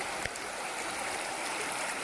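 A river that is flat, fairly deep and slow moving, giving a steady, close wash of flowing water with no talking.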